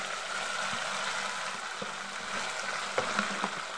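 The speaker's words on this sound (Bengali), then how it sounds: "টমেটোটা আমি তেলের মধ্যে একটু নেড়ে নেব" Tomato stirred and fried in hot oil for a Bengali potato and soya chunk curry, a steady close sizzle with a few soft knocks of the spoon against the pan toward the end.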